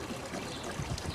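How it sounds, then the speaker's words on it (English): A garden hose pours water into a backyard swimming pool, a continuous soft splashing hiss with slight bubbling, moderately faint and without speech. "we'll leave the water on, let it keep filling"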